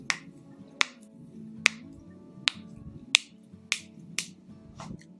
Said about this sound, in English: Trigger number 2, knuckle cracking.